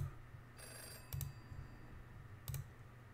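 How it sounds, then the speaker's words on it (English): A telephone rings in the video game Bad Dream Coma, two short faint electronic bell bursts spaced over a second apart, over a low background hum. "The phone's ringing?"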